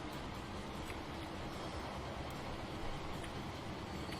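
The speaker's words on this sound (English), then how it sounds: "Oh, that's the Bristol train coming in." A train arriving at Bristol in the video game Transport Fever, a continuous low rumble of rolling wheels and carriages heard at a steady, moderate distance.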